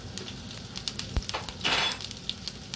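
Spoonful of nigella seeds dropped into hot oil already holding mustard seeds, tempering for a Jaffna-style eggplant curry: soft scattered crackles and pops with a brief louder sizzle burst midway, close and fairly quiet.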